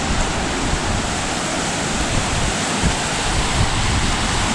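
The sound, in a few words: river rapids flowing by an old dam wall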